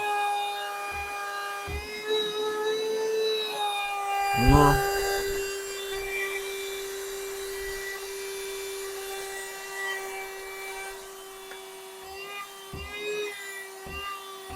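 Cordless Avrora car vacuum cleaner switched on and humming steadily at close range, a constant motor drone with harmonics, broken by a few clicks and handling knocks; no speech.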